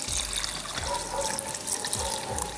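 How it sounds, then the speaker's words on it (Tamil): Water pours steadily into a coconut chutney mixture waiting to be ground, a close, continuous splashing trickle with no voices. "நீங்கள் தேவையான அளவு தண்ணி ஊற்றிக்கோங்க."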